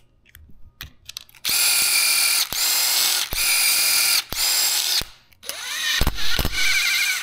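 A tap is run through bolt threads to clear out old Loctite, producing several loud, whirring mechanical bursts separated by short clicking pauses.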